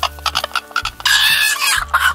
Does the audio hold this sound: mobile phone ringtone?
no